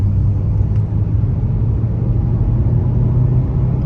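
A car drives along a rough rural road in Siberia on the way to a village, its steady low engine rumble and road noise filling the cabin continuously and loudly throughout.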